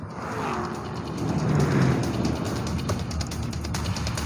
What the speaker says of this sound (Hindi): सभी कारें अब 130 किलोमीटर पर आवर की स्पीड से चलने लगी।